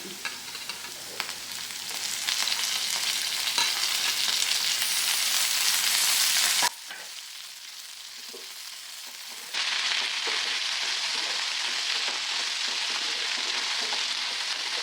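Onions sizzle in hot oil with dried red chillies, curry leaves and garlic for a Telugu-style potato fry, a loud steady crackle broken by a brief quieter dip and then resuming at full strength, with no talking.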